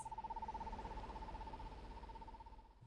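Birds call outdoors in a wilderness park: a steady, wavering whistle-like tone holds for a few seconds over a low rumble of background noise, moderately faint.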